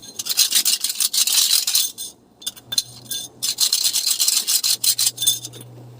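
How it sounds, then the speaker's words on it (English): Hard drive platter being scratched to destroy it, harsh rasping strokes in bursts with brief pauses, close and loud, alone without talk. "You see how I'm scratching it?"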